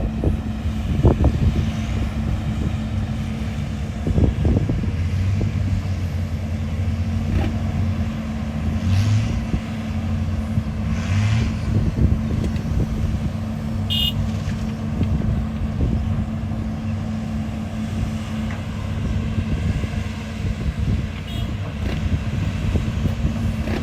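An empty Fuso truck reverses across sandy ground, its engine a steady, fairly close low drone with slight surges in revving.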